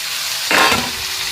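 Chicken feet, gizzard and liver added to a pan of frying potatoes, a sudden burst of sizzling as the meat hits the hot oil, swelling briefly then settling back to a low hiss.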